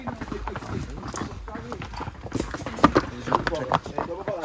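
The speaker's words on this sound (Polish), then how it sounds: "O, na końcu idzie mały konik." Horses walk along a trail near El Limón Waterfall on the Samaná Peninsula, hooves clip-clopping irregularly close by while people talk over the steps.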